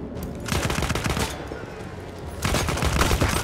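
Rapid automatic gunfire from the Battlefield 1 video game, in two dense sustained bursts separated by a brief lull, loud and close.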